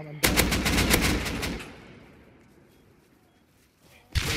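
An AK rifle fires in the survival game Rust: a loud, rapid automatic burst of about a dozen shots rings out and trails off into a fading tail, then another burst cuts in at the end.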